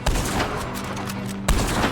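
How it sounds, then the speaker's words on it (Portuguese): Gunfire in the video game Red Dead Redemption 2: a sustained burst of shots and a loud fresh blast near the end, filling the whole short stretch without talk. "Vou atirar, hein."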